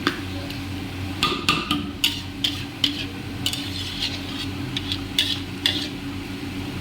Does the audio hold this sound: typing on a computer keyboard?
no